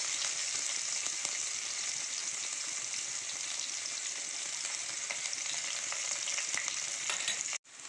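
Continuous bright sizzle of shallots frying in oil, close and steady with faint stirring scrapes, then a brief cut near the end.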